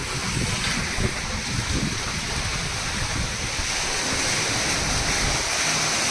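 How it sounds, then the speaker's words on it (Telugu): Rainwater from a harvesting system pours into an underground sump, making a steady, full rushing and splashing roar that holds evenly throughout with no talk. "ఈ సంపులో ఫుల్ ఫ్లెడ్జ్ వాటర్ వస్తూ ఉంది."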